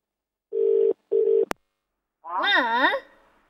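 A landline phone gives two steady dial-tone-like beeps and a click as a number is dialed, followed by a voice speaking in a studio setting.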